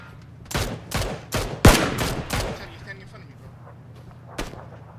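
Gunfire in the PUBG battle royale game, about eight sharp separate shots in an uneven rhythm over a low hum, then a lone later shot, with voices talking in between.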